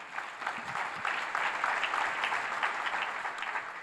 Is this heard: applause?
yes